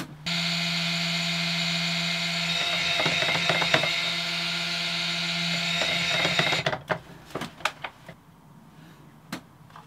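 A small handheld mini mixer blends fragrance oil for cold process soap, giving a steady close motor whine for several seconds that then stops, followed by scattered clinks and knocks.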